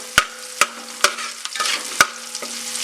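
Ginger and garlic fry in a pan for a Malabar mutton curry, a steady sizzle broken by several sharp, close metallic taps and scrapes as a spatula stirs them at an irregular rhythm.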